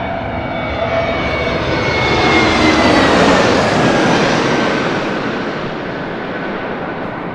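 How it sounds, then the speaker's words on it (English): An Airbus A321 airliner touches down at LAX, a loud, broad jet roar that swells to a peak mid-pass and then eases off, heard alone with no voices. "Airbus 321 touching down"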